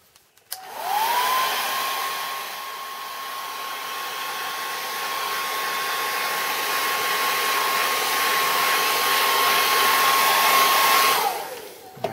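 A hair dryer switches on and runs at a steady, loud roar with a constant high whine, drying kiln wash on kiln shelves, then cuts off abruptly near the end.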